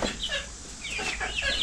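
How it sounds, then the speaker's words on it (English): Chickens cluck and chatter at a backyard chicken coop in several overlapping bursts of squawks, close and fairly loud, with no voices heard. "It's a chicken. It's a meat chicken."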